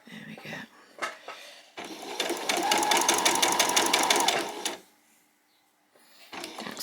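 A sewing machine stitches a fabric headband in one steady, close run of about three seconds. Fabric handling and soft rustles come before and after it.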